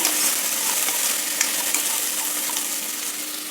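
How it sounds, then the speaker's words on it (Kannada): Chayote pieces frying in oil in a pan give a steady, close sizzle with a few small clicks from a utensil, continuous and fairly loud, with no talking. "ಸೀಮೆ ಬದನೆಕಾಯಿನ ಎಣ್ಣೆಯಲ್ಲಿ ಈ ಥರ ಫ್ರೈ ಮಾಡೋದ್ರಿಂದ ಟೇಸ್ಟು ಚೆನ್ನಾಗಿರುತ್ತೆ"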